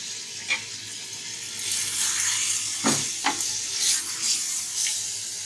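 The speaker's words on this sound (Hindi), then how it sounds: "अच्छे से चलाएंगे ताकि हमारे मसाले जो हमने अभी डाले सही से हो जाए।" Mutton with turmeric and spices stirred in a pot, a soft steady sizzle with scraping clinks of the spoon against the metal, two sharper knocks midway, no talking.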